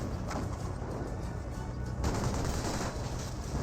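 Gunfire in the World War II strategy video game Company of Heroes rattles in dense, continuous volleys of machine-gun and rifle fire, loud and sustained with a heavier burst midway.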